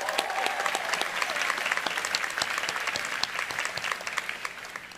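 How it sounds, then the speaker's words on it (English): An outdoor graduation commencement crowd at the College of Charleston's Cistern Yard breaks into sustained, dense applause, steady and moderately loud for the whole stretch. "Give yourselves a round of applause."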